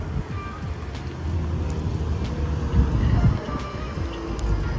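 Car exhaust heard from outside the vehicle, a steady low rumble with a brief swell near the middle, mixed with wind buffeting on the microphone and some faint background noise.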